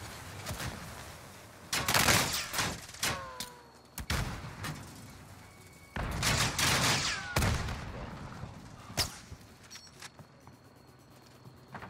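Bursts of gunfire from a first-person shooter game, with rapid volleys around two and six seconds and scattered single shots between, loud and close over a background of in-game noise and mechanical effects.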